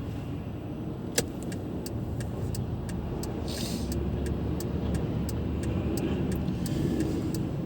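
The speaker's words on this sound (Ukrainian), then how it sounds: "Так, там автобус." Road traffic on a city street, with a vehicle such as a bus passing. It gives a steady broadband rumble that holds for the whole stretch, with faint clicks and one sharp tick early on. No one speaks.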